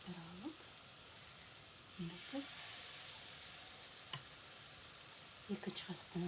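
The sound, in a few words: oat cutlets frying in a pan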